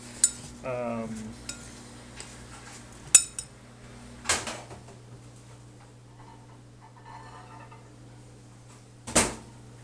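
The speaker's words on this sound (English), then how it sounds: "That's why I'll put in a couple tablespoons of flour and we'll mix that all up in it." Spoon scraping and clinking against a bowl while flour is mixed into apple pie fruit filling, scattered sharp knocks and clatters over a steady low kitchen hum.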